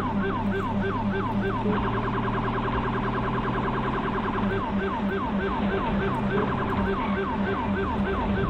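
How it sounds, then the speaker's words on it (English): Several NYPD police sirens in GTA 5 wail together during a high-speed chase, rising and falling in overlapping cycles, loud and close, with some faster yelping patterns and a steady engine hum beneath. "You guys don't hear the lights and the sirens?"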